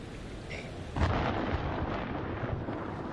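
Distant storm thunder in the horror game Man of Medan, a sudden low rumbling boom that swells after a quiet moment and then rolls on faintly beneath steady ambience.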